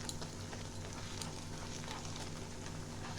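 Malpua frying in hot oil, a soft, continuous crackling sizzle with faint pops, steady and fairly quiet throughout.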